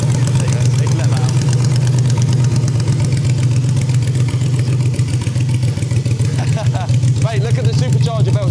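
A supercharged car engine idles loud and near, a steady low throbbing hum with a rapid ticking rhythm, while people talk over it toward the end.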